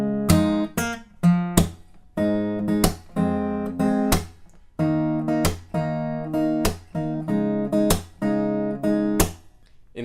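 Acoustic guitar plays the riff from a song, mixing plucked chords with sharp percussive slaps on beats two and four. The rhythm is steady, close and clear, with no voice.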